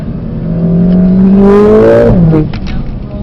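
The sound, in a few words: Mercedes AMG car driving and drifting on track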